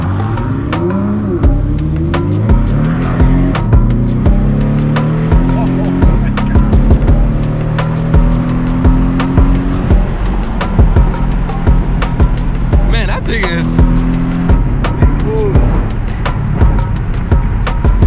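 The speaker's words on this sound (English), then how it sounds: "Man, that's a race car right there." Two sports cars, a 2018 Porsche 718 Cayman and a 2020 Ford GT, race with loud engines revving and rising in pitch over a constant road roar, while people talk excitedly throughout.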